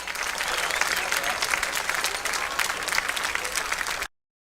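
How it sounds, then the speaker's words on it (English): Crowd in the stands at a Cape League championship baseball game applauding a Cal Berkeley sophomore, a steady rousing wash of clapping with scattered cheers and voices beneath, holding for about four seconds before cutting off abruptly. "A rousing applause for the sophomore from Cal Berkeley"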